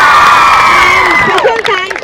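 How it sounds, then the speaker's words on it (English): A school event audience cheers and shouts with youthful voices for a teacher, a loud crowd burst with whoops rising over a sustained tone before fading into scattered voices. "Please clap for him."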